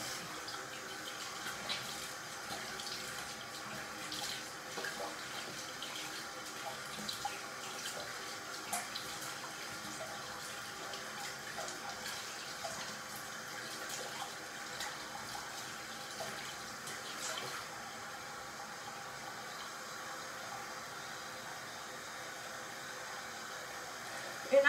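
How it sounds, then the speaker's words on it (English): Cold tap water runs steadily into a bathroom sink while soap is rinsed off a face, a faint, continuous splashing hiss with small irregular spatters and no talking. "when I wash the soap off my face, I use cold water"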